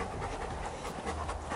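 Dog panting steadily and close during a barefoot January forest walk, a soft continuous rhythmic huffing under faint outdoor background noise.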